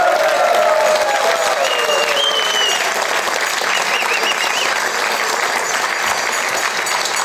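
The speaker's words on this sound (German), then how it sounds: "Meine Damen und Herren, einen herzlichen Applaus" Studio audience at a Swiss celebrity cooking show bursts into loud, dense applause that runs steadily throughout, with faint cheering and whistles mixed in.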